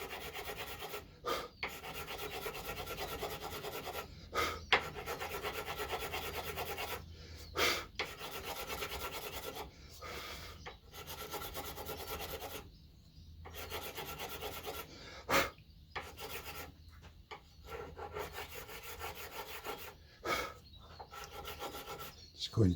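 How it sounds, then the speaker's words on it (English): Quiet, repeated rasping strokes of a metal file dressing down guitar fret ends on a neck, irregular scrapes separated by brief pauses, close and alone. "just getting a file and filing them down"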